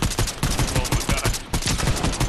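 Rapid gunfire in Fortnite, a steady stream of repeated shots with a brief break partway through, loud and close.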